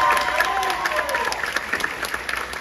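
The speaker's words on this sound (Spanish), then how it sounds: "Un fuerte aplauso para todos ustedes también" Theatre audience at the Festival Ernesto Alfaro applauds in a dense, steady wash of many hands, sustained for the whole stretch with a faint crowd murmur beneath.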